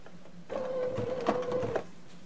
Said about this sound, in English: I'm going to push my foot control down. The machine takes a stitch and a space, it stops.